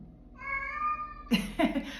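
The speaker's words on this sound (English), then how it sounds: "My cat wants to share in today's astro alchemy, as you can hear." A cat lets out a drawn-out meow close by, followed by a couple of shorter, rougher cries.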